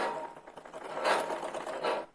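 Electric sewing machine stitching piping onto a kurti: a short, close whirring run of rapid needle strokes, swelling and easing over about two seconds before stopping, with no voices.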